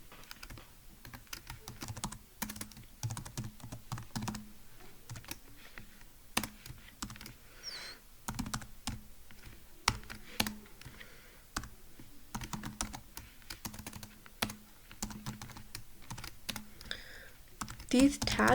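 Rapid clattering keystrokes on a computer keyboard while writing HTML code in Visual Studio Code, close and fairly quiet, in irregular bursts with brief pauses and a faint voice now and then.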